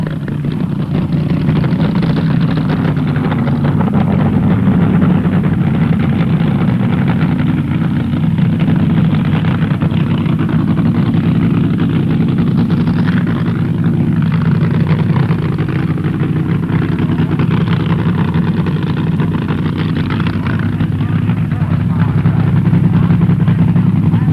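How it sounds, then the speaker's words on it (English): A powerful drag racing car engine at the 1967 NHRA World Championship Finals rumbles loudly and continuously, a deep, steady idle-like growl with slight swells in intensity throughout. "You can hear his engine coming up now"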